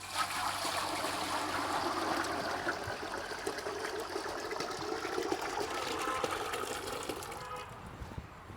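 Water pours steadily into a cooking pot in a village kitchen, ready for boiling eggs for egg bonda, a continuous splashing trickle that runs for several seconds before tapering off.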